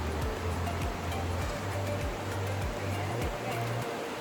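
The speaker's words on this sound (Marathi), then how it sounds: "पाण्याचा आवाज पण खूप जास्त सुंदर येतोय" Monsoon water streaming down a roadside waterfall near Khandi village in Maharashtra makes a constant, dense rushing roar that stays close and even throughout, with no voices.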